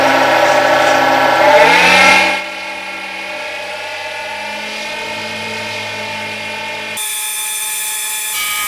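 A wood lathe spins up to about 3,000 RPM while turning a pizza-cutter handle, its motor whine rising in pitch and then holding a steady, loud hum with no talking.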